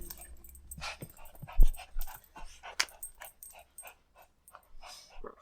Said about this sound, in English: What is it, dog? Tell me all about it.